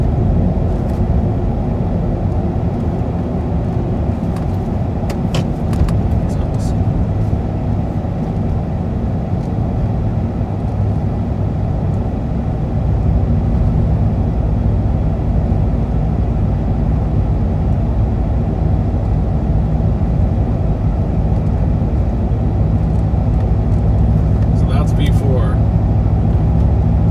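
A 2015 Chevrolet Silverado V8 with a Magnaflow axle-dump exhaust drives along, a steady deep engine rumble and road roar heard from inside, with a person talking over it.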